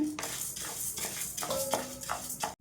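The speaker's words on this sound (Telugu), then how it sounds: "ఇవి వేగేంత వరకు కలుపుతూనే ఉండాలండి" Horse gram roasts dry in a pan over a medium flame and is stirred continuously, rhythmic scraping and rattling strokes of a spoon against the metal, fairly close and moderately loud, with no voices.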